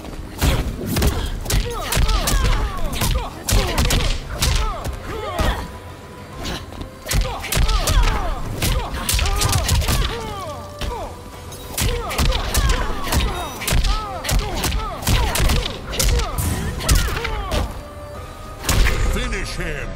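Mortal Kombat 11 fight between Sonya Blade and Jax on PS5: rapid punches, kicks, thuds and whacks land in dense bursts with grunts and shouts, loud and continuous for the whole round.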